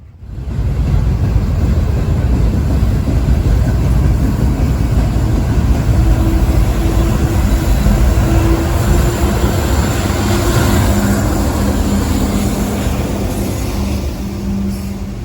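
CSX M421 freight train passing on the line toward Waycross, Georgia: a loud, continuous roar of engine and rolling cars close by, with a steady rumble and a faint tonal whine partway through.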